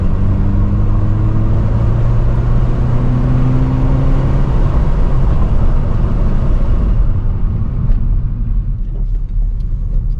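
Honda Civic Si on a test drive with upgraded brake lines, its engine and road rumble loud and steady throughout, with a rising whine of acceleration early on before easing into a lower cruise.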